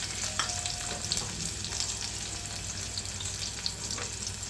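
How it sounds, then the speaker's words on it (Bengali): Radhuni seeds sizzle in hot oil in a wok, a moderate crackling fry with a few light clinks and a faint watery trickle in the background. No one speaks. "প্রথমে আমি একটি কড়াইতে পরিমাণ মতো তেল দিয়ে তার মধ্যে আমি রাঁধুনি সম্বারা দিচ্ছি।"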